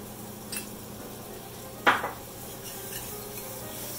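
Flour stirred into melted butter in a pan for a roux: a quiet steady sizzle under a couple of light metallic scrapes and one clear clink of utensil against the pan.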